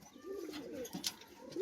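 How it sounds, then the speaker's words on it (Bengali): Pigeons in a loft give faint, low cooing calls close by, with a brief flutter or scuffle in between. "এদিকে পায়রা ছাড়া আছে যার কারণে বেরোনোর চেষ্টা করছে"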